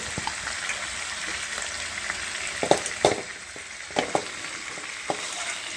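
Chicken pieces fry in hot oil for Thalassery chicken dum biryani, giving a continuous close sizzle broken by scattered sharp pops and crackles, with no voices.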